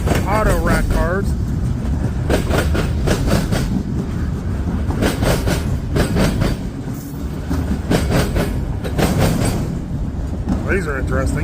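Freight train of box cars and auto rack cars rolling past close by with a steady loud rumble and rhythmic wheel clatter, while someone talks over it.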